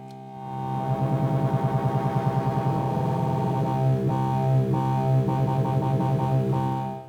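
A modular synthesizer oscillator drones with a rich, buzzy harmonic tone. Its timbre is reshaped as it plays, first pulsing in a fast rhythmic wobble, then shifting into stepped changes. It is loud and close, with no talk.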